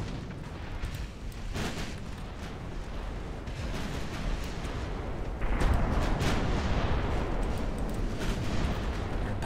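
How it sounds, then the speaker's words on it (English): Warship guns fire high-explosive rounds in a naval battle video game, a dense, continuous rumble of booming shots that swells louder midway. No voices are heard. "fire high explosive rounds only"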